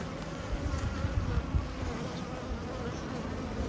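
Honeybees released from a box during a hive split into an Anel hive make a dense, continuous buzz at close range, steady and fairly loud with small swells, and no talking.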